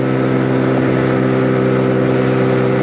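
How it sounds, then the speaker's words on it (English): A Zontes G125 motorcycle's liquid-cooled 125 cc engine runs at steady high revs, loud and close, a dense continuous hum with no pauses. "This is how the engine likes to be run."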